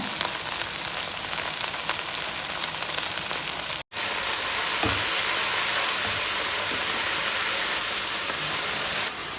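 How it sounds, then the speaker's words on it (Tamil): Mint and coriander leaves sauté in a pan with a steady, rain-like hiss of frying, broken by one brief dropout, heard close with no voices. "ஸோ இங்கே பார்த்தீங்கன்னா புதினா வந்து நல்லா வதங்கிக்கிட்டு இருக்கு."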